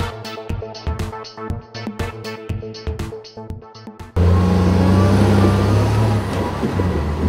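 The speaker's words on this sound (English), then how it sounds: "The operator debarks the trees using the blade and the wheels." Tigercar track feller buncher debarking southern hemisphere pine with its blade and wheels: loud heavy diesel machinery with rhythmic knocking and mechanical clatter, then a sudden dense roaring engine drone, close and continuous, no talk.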